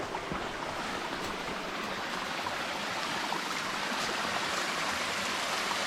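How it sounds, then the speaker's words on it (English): A small creek cascade flowing, a steady, close, full rushing of water with no break and no voices. "We're at the first small cascade"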